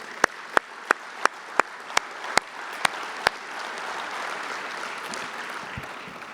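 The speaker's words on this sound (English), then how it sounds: "Please join me in a round of applause for these groups." An audience gives a round of applause at a university athletics operations center unveiling, starting with a few sharp, evenly spaced claps from one nearby person before the crowd's clapping swells into a steady wash.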